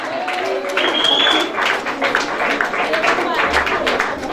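A church congregation claps and cheers during a worship service, scattered applause with crowd voices and talk mixed through, moderately loud and uneven over a few seconds.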